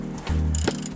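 A wrench turning on an 18 mm bolt under a BMW E46 M3 during a rear camber arm replacement makes a brief, close metallic ratcheting creak and clunk as the bolt breaks loose, with no voices.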